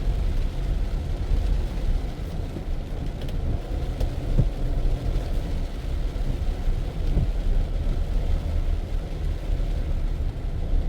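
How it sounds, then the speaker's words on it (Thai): Steady rain falls with a deep rumble of thunder during a Lao New Year celebration, a continuous broad wash of sound that stays constant throughout with no voices. "ฝนกำลังมาเลยเนี่ย"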